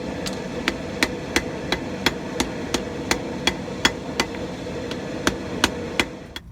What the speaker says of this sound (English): you're just going to start forging from the corners and gently forge it all back into itself